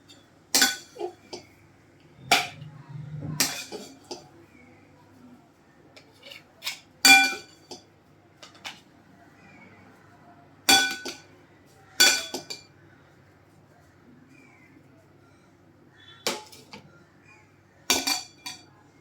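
Plates and bowls clink and clatter as sanja is served in a kitchen, with a series of sharp, separate ceramic and metal knocks spaced irregularly across the clip and quiet pauses in between.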